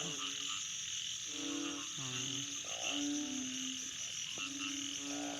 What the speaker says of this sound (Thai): ไ ด้ยินเสียงอึ่งนะคะระงมพรมพายเลย